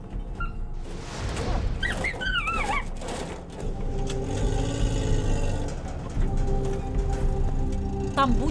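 A vehicle engine, its exhaust piped into a dog gas chamber, rumbles low and steady throughout, with a few high whines and yelps from dogs over it early on.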